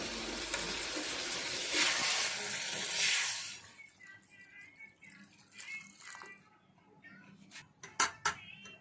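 Water poured into a pan for a lemon fish curry, a loud hissing gush for a few seconds, then quieter bubbling and sharp clinks of a utensil against the pan.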